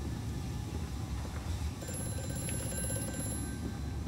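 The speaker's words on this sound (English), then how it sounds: "And the phone's ringing." An old telephone rings in the horror video game Amnesia: A Machine for Pigs, a thin repeating bell trill over a low droning ambience.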